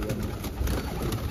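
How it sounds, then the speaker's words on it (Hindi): Pigeons set loose from their coop coo close by, soft low calls repeating over a busy outdoor background. "ये निकले कबूतर बाहर।"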